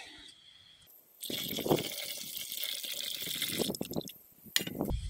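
Refined gold being washed with water during redissolution to a high-purity ingot, with close splashing, trickling and gushing liquid in several bursts that grow louder midway, interrupted by brief pauses.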